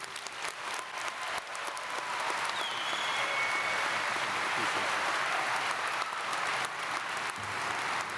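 A large graduation ceremony audience applauds a keynote speaker, a former NFL player, in a college hall: dense, sustained clapping from many hands fills the whole stretch at an even level.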